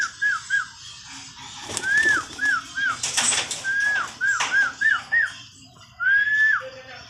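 Pigeons give short, soft repeated coos and chirps close by, in brief clustered bursts with pauses, over a light background hiss.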